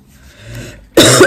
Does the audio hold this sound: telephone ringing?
no